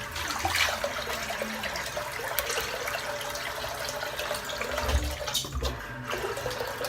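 Running water pours steadily into a bowl, a continuous rushing splash close by that holds level throughout, no voices.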